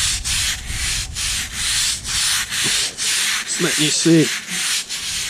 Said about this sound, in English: I'll scrub on this one a while and let you see what happens. This one's a little more stubborn.